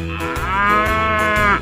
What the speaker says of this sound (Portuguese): Boi azul, onde está você?